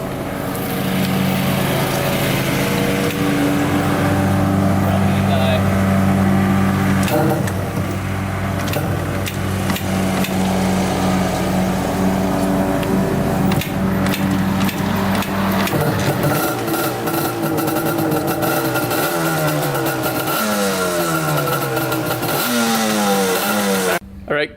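Yamaha Banshee ATV engine running during a ride, a loud continuous buzzing drone that rises and falls with throttle changes, with a voice talking over it.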